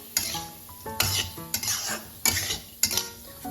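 Silkworms going into a dry kadhai wok without oil or salt, followed by a spoon repeatedly scraping and stirring them against the metal, with a faint sizzle between the loud clinking strokes, close up and without speech.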